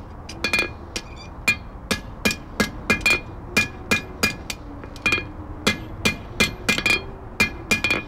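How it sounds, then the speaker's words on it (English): A blacksmith strikes metal with a hammer during a demonstration at a history museum, sharp ringing blows landing in a quick, steady rhythm with brief pauses, close and loud. "And you got to be good with this hammer and quick with it."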